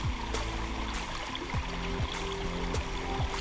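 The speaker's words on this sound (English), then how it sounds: "So relaxing, listening to the birds and the water." Stream water flowing steadily beside someone digging for gold outdoors, a continuous close rushing and trickling wash with a few faint chirps above it.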